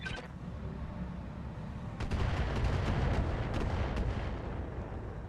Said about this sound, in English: Continue dropping mortars on the base.